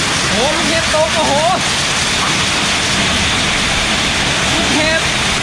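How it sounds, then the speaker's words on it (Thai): Heavy hail pounds down in a Chiang Mai storm, a dense, loud, continuous roar of impacts, with excited voices calling out over it. "เต็มพื้นเลยนี่เต็มพื้นเลยลูกเห็บตกเต็มบนหลัง"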